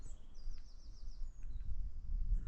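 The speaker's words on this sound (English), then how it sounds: "So peaceful here, just the noise of the birds." A few thin, high bird calls sound faintly in the distance on Great Mell Fell in the Lake District, including one short trilling phrase, over a low rumbling outdoor background.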